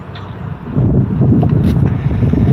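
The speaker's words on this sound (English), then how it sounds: "Bit of wind today." Steady wind buffets the microphone at an outdoor airport plane-spotting spot, a loud, low rushing roar that strengthens after the first moment and then holds.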